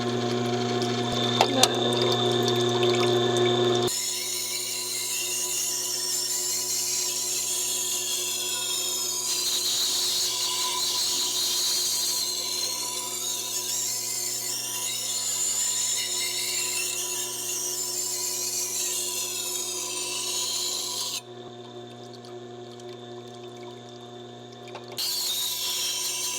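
A Tormek sharpening machine grinding a kitchen knife: a steady motor hum with a whirring, wet wheel sound, clicks as it starts, gentle scraping variations as the blade is worked, and a brief pause before resuming.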